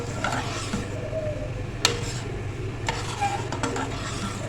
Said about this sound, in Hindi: इसको अच्छे से करेंगे मिक्स।